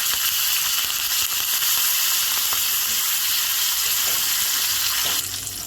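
Mustard seeds, cumin and curry leaves sizzle in hot oil for a tempering poured over raw mango dal, a loud, steady crackling hiss that continues without pause and eases slightly at the end.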